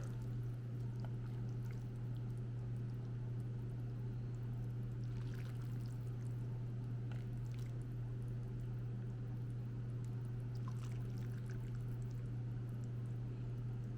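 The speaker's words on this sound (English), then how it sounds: "So I'm gonna pour this, just enough to cover." Pho broth from an Instant Pot pours steadily over bones in a pot, a soft continuous liquid trickle and splash over a low constant hum, with no talking.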